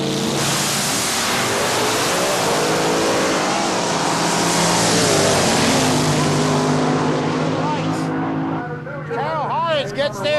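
A Fiat Coupe drag racing car accelerates hard in a Wild Bunch versus Supercharged Outlaws match, a loud, sustained engine roar climbing close by before dropping away near the end, with a commentator's voice over it.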